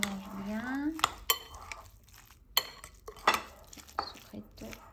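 A utensil stirs and mixes ingredients for an ensaladilla in a bowl, with sharp clinks and scrapes against the sides coming close and fairly loud in irregular bursts.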